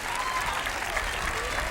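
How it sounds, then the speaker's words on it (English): Crowd applause rises from the stands at a 1992 high school football homecoming game between Berkley and Ferndale after a player's injury, a steady, slightly distant wash of clapping and crowd noise lasting under two seconds. "And a round of applause, hoping the best for Tom"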